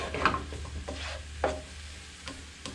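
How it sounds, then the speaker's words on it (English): Onions, jalapeno and garlic sizzle softly in oil in a pan, with several distinct scraping stirs of a utensil at irregular intervals over a low steady frying hiss. "I'm going to go ahead and put my onions in. Jalapeno and the garlic. Start giving all these a little stir."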